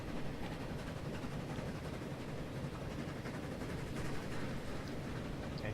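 A train arriving in the Transport Fever rail game, a dense continuous rumble and clatter of wheels and wagons holding steady and loud throughout, with no voices over it.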